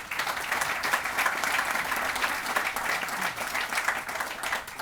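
A round of audience applause at a college building ribbon-cutting ceremony, even and continuous from start to finish, moderately loud with no voices standing out.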